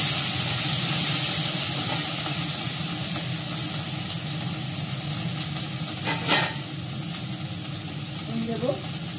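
Onion stalks and potato hit hot oil seasoned with black cumin in a frying pan, with a loud steam-laden sizzle that starts strong and slowly eases, broken by a few stirring clinks near the end.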